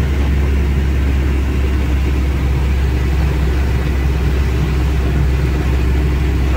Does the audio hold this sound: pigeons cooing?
no